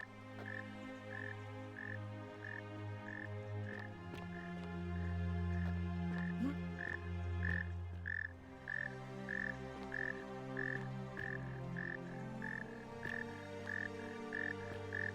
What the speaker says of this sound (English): I was thinking I might be able to grab the frog or something, since he's croaking so loud.